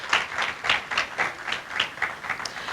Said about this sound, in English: Can we please just give them a last round of applause?